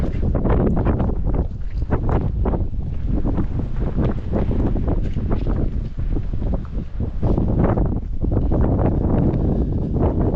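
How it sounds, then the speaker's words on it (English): Strong wind buffets the microphone on open moorland at Bodmin Moor, a loud, continuous roaring rush that never lets up, with gusty surges throughout. "Trying to see if I can get a bit out of the wind."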